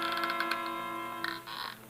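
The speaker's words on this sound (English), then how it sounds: "Something creaking." A creaking sound effect from an old-time radio drama (Dangerous Assignment): a sustained, close creak with a strained tonal quality that swells into a couple of harsher creaks near the end, with no voices.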